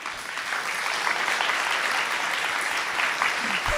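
Audience applause at a spiritual talk, dense sustained clapping from a crowd holding at an even level throughout, with no voices over it.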